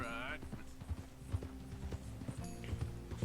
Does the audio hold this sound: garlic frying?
no